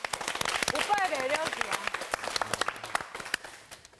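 A studio audience at a Bible lecture applauds after a sung hymn, a scattered, moderately loud patter of clapping heard under a person speaking.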